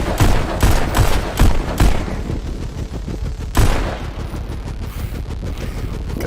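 Pistol gunshots in the VR rhythm shooter Pistol Whip: a rapid series of punchy shots at the start, then one more heavy blast over a dense, loud backing track.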